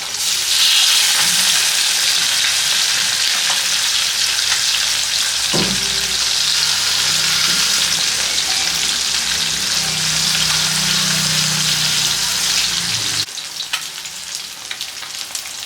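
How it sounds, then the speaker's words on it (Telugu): Fish pieces deep frying in hot oil give a loud, steady, dense sizzle that runs throughout with occasional crackles, dropping slightly toward the end. "ఈ ఫ్రై పీస్ మొత్తం ఫ్రై అయ్యేలా డీప్ ఫ్రై అయ్యేలా వరకు ఉంచాలన్నమాట"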